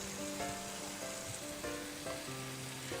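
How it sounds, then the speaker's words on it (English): A yogurt tomato paste fries in oil over a low flame, a soft, steady sizzle with faint crackles and quiet background tones, and nobody speaks. "We'll now fry this gorgeous looking paste until the oil rises to the surface."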